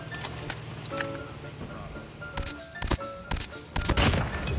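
XPR sniper rifle fire in a mobile shooter game, several sharp cracking shots spaced a second or so apart, heard over game background noise and music.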